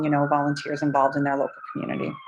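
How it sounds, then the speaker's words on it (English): A siren wails steadily in the background, a high sustained tone running beneath a person speaking close by. "Sorry for the siren."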